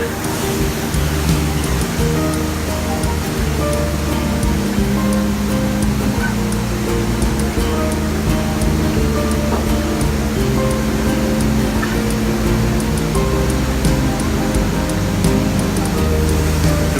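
A carpet cleaning machine runs continuously, a loud dense roaring rush that stays steady throughout without pauses.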